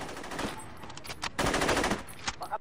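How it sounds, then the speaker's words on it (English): Rapid bursts of automatic gunfire in a multiplayer video game match, sharp and fairly loud, coming in uneven volleys with brief pauses between them. "Look at Tashad wasting all his ammo"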